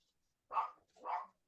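Two short, close dog barks from puppies, loud and sharp with a brief pause between them, standing alone with no talk over them.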